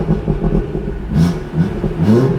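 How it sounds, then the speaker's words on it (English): A car engine fitted with a Dorch Engineering Gen 1 DS25 turbo running flex fuel gives loud, close, short revs, rising and falling in a few quick bursts. "Give us some little baby revs"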